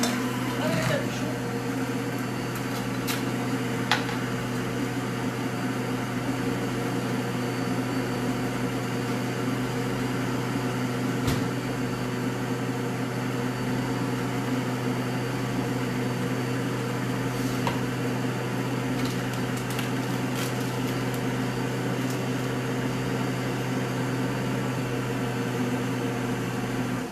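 A kitchen mixer whirs steadily at a constant pitch while beating eggs and sugar, a continuous close mechanical drone lasting throughout with a few faint clicks.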